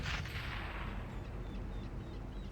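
A tank fires its cannon in a tank video game, one heavy boom near the start with a long rumbling tail and scattered distant shots, fairly faint overall, no talk heard.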